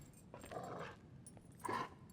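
A dog in GTA Online growls low and lets out a couple of whimpering yips, two bursts of sound about a second apart, fairly faint against a quiet game background.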